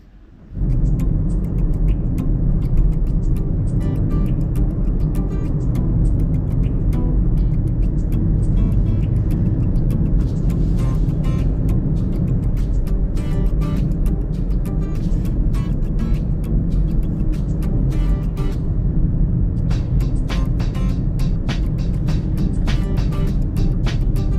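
A car drives along a road, heard from inside as a loud, continuous engine and tyre rumble with scattered clicks and rattles throughout, no voices.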